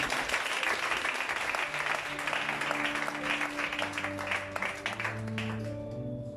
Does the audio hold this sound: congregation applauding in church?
yes